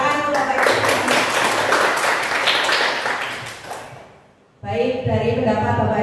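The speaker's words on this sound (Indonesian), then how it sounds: "Tepuk tangan untuk Bapak Ibu." Applause from an audience of teachers at a school meeting, loud clapping for about four seconds that fades to near silence before a voice starts speaking.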